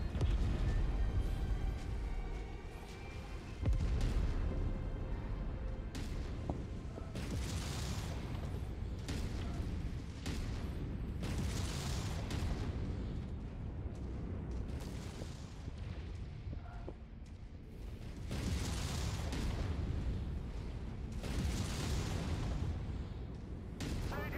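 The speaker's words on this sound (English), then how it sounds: "That was a big explosion." Loud, booming explosions and heavy combat rumble from the MechWarrior 5 video game roll on continuously, with repeated deep blasts swelling over a dense, roaring battle din.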